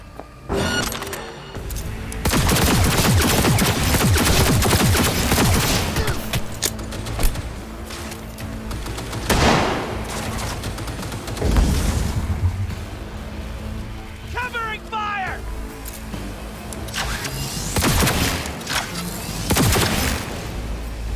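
Dense game gunfire from Cyberpunk 2077 rattles in loud bursts and booming volleys through most of the stretch, with shattering and debris crackle between shots and a voice speaking over the fight.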